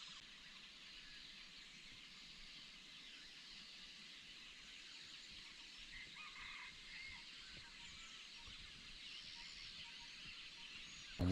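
Birds call across a field in a hot open rural setting, a steady faint wash of chirping and fowl-like calls in the distance with no talk.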